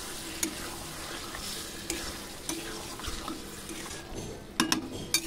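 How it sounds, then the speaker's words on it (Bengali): Goat meat sizzles steadily in hot spiced oil in a pan while a spoon stirs it, with close scraping knocks scattered through and a quick cluster of clatters near the end. "মাংসটা নেড়ে নেব"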